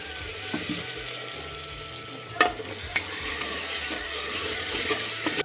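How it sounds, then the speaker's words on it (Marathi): Water poured into masala frying on a gas stove, a steady low sizzle and bubbling with a few sharp clinks of a utensil against the pan, fairly quiet and close, without talk. "आता मसाल्यात थोडंसं पाणी, भारी होतं हा मसाला पाणी टाकलं."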